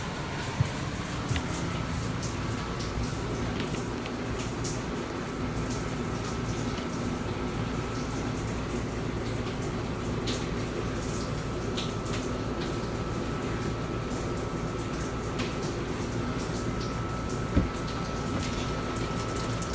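Water runs from an RV shower in a Class C motorhome fed by a 44-gallon tank, a steady hiss and gush with a faint pump hum, continuous and close, without speech.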